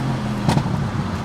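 A tuned car is driven on the road, heard from inside as a steady low engine drone and road rumble, with a brief brighter burst partway through.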